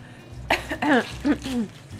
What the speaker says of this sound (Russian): сейчас, подождите, можно покашляю?